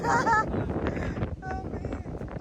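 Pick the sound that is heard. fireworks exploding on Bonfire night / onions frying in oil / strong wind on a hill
strong wind on a hill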